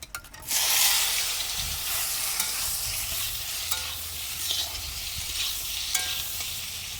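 Steamed paan potatoes hit hot oil in a pan with a sudden loud burst of sizzling that settles into a continuous, dense frying hiss with light scraping and a few pops, close and without voices.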